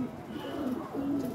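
High-flyer pigeons coo in low, rolling calls, two or three soft phrases close by over faint background hum.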